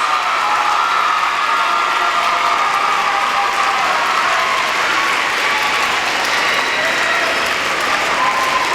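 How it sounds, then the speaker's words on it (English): Steady, loud round of applause from a live audience at the Mr. Parkland 2006 pageant, a dense, even wash of clapping that continues without a break. "let's give these 4 guys an amazing round of applause"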